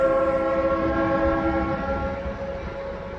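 A train passes close by, its horn blaring as a steady multi-tone chord over the rumble of rolling wagons, loud at first and easing slightly as it goes on.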